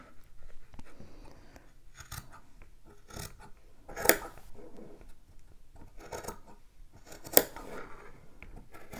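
Scissors snip a fabric strip into fringe beside a seam on an in-the-hoop machine-embroidered Christmas treat bag, a series of close, crisp cuts with brief pauses between them.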